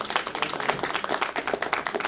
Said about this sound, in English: All right, give Rashida a round of applause.